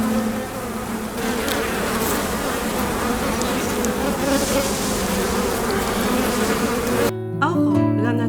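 A steady, close drone of many buzzing bees continues for several seconds before it cuts off abruptly into other sound.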